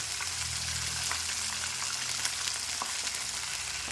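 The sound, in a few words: frying pointed gourd and chopped onion in oil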